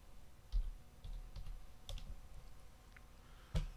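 Keys on a computer keyboard being typed in a quiet room, a handful of sparse, soft clicks and taps with no talking.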